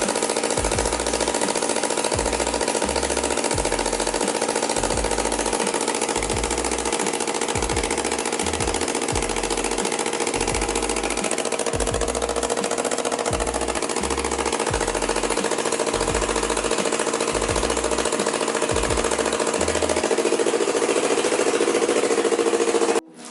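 A Yamaha R25 twin, just overhauled, fires up and settles into an idle, its exhaust thumping in a rapid, loud, even pulse that stays steady for over twenty seconds before cutting off abruptly.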